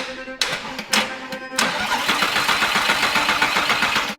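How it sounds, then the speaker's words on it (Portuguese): Starter motor cranking a Lamborghini engine, first in three short bursts then catching into a rapid, steady chugging crank that continues loudly to the end. "Decidimos enviar energia diretamente para o motor de arranque para ver se o motor girava."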